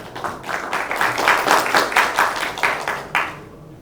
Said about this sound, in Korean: 다시 한번 우리 남 감독님께 큰 박수 부탁드리겠습니다.